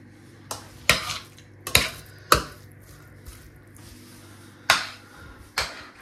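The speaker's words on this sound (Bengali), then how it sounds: "আমরা আজকে রাঁধছি খিচুড়ি।" Khichuri cooks in a pot in a dorm kitchen, with several sharp utensil scrapes and clanks against the pot over a quiet low hum, spaced irregularly; no talking.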